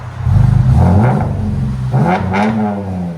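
A 2015 Mercedes E350 AMG with a 3.5L V6 and resonator and muffler delete revs twice, giving loud deep exhaust blasts that rise in pitch and fall back to a rumbling idle, close by.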